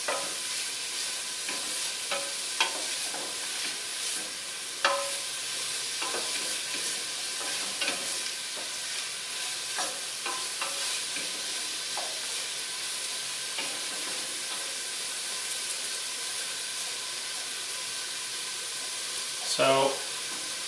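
A steady sizzle and hiss of asparagus sautéing in a hot pan for risotto, with occasional clinks and stirring scrapes, close and continuous throughout.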